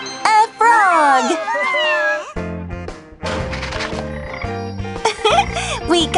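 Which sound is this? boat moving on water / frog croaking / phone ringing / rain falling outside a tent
frog croaking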